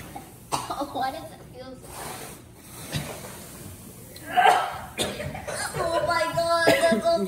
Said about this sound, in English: As we're coughing from the perlite backdraft or whatever.